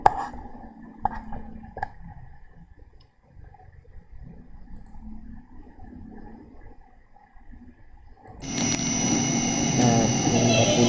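A three-phase motor fed by a variable frequency drive on single-phase input runs at speed setting 40. Faint clicks and near-silence give way to a sudden, steady motor hum and whine that holds to the end.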